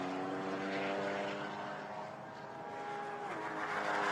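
A lone BMW GT car on its flying qualifying lap at the Thailand circuit holds a loud, steady engine note. The pitch climbs and dips slightly through a gear change.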